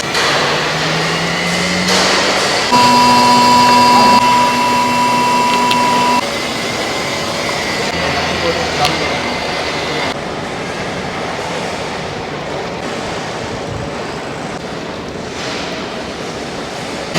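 A milk cream separator machine runs with a loud steady whirring hum and a high whine, and a brief tonal pitch appears early on before the motor settles into a constant drone.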